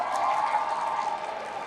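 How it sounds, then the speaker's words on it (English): Audience applause at a closing plenary session featuring stand-up comedy, a brief, steady patter of many hands clapping at moderate volume, fading slightly as it goes on. "Please give applause for my UI friend."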